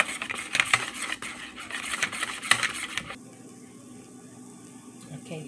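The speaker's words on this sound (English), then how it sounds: "I'm gonna stir this, guys, and get all the lumps out." Pancake batter stirred in a bowl to work out the lumps, a busy scraping and clinking of utensil against the dish for about three seconds before it drops to a quiet background hiss.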